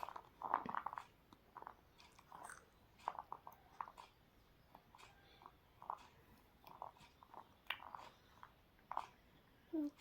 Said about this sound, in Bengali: কি খাচ্ছ তুমি? ডিম।